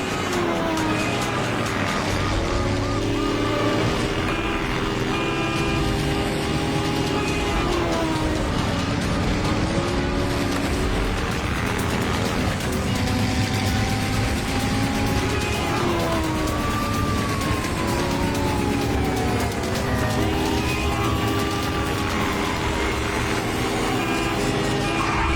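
Cartoon getaway car racing in a chase, constant loud engine roar with wailing siren sweeps from pursuing vehicles running through the whole stretch.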